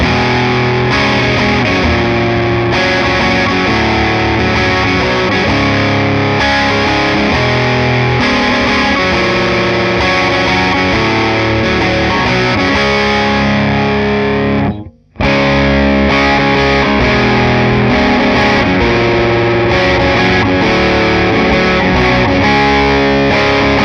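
Loud distorted electric guitar through an amp cabinet, close-miked, with dense chords, a brief cut to silence, then playing resumes.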